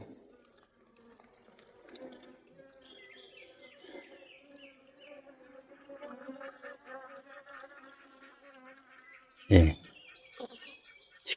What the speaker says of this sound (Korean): 여기도 벌이, 벌이 지키고 있나요, 여기 한 마리?